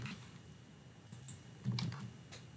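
Keys clatter on a computer keyboard as a site name is entered during a WordPress setup on Azure, a short run of light taps with a firmer cluster of keystrokes near the end.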